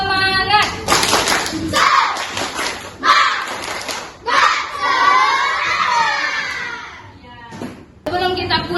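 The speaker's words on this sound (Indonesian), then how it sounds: "Coba yuk, tepuk semangat." A class of schoolchildren performs a rhythmic spirit-clapping chant before going home, with shouted chanting voices, bursts of clapping and thumps in a loud, lively stretch broken by short pauses.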